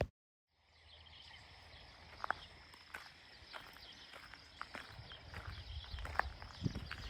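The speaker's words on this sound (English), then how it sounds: "I don't know if you can tell by the sound of my footsteps, but I was moving quickly through this bridge" Quick footsteps cross a covered wooden bridge in a rural area, a string of brisk, fairly close knocks and thuds over a quiet outdoor background with faint insects and birds.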